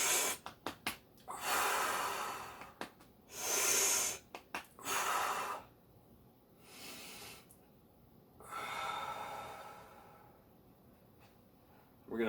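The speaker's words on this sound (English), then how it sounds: "I'm also breathing deeply using my core" Deep belly breaths taken in opera-singer style during an at-home upper body workout, a series of loud, close, breathy inhales and exhales, some short and snorting, others long and sustained, separated by pauses.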